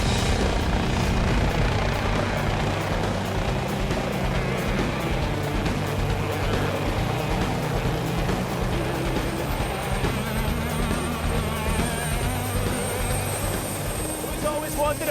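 A loud, continuous engine roar with rhythmic rotor-like thumping persists throughout, with talk mixed underneath.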